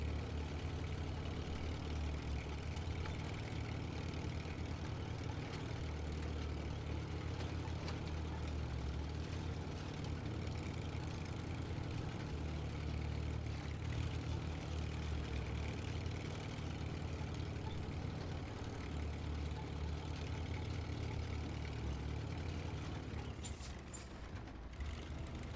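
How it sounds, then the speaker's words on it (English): An old truck idles in the off-road driving game SnowRunner, a steady low tractor-like engine rumble that drones on without pause for the full stretch, with faint mechanical rattles on top. "It's just like an old truck sound. Kind of sounds a little bit like a tractor that just revs a bit higher than a normal tractor would."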